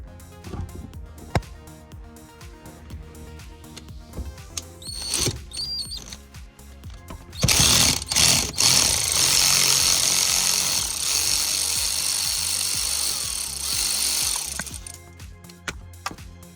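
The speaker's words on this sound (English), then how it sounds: "use that 10mm socket and remove the back side of that sensor" Power tool or ratchet work on the crankshaft position sensor bolt of a 2014 Hyundai Accent, using a 10mm socket; quiet mechanical clicks build into a loud sustained whir in the middle, then fade near the end.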